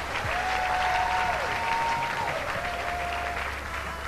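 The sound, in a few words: audience applauding for the guest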